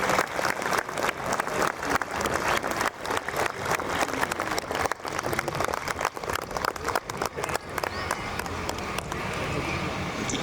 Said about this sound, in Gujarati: જોરદાર તાળીઓથી આ લોકોનું સ્વાગત કરો.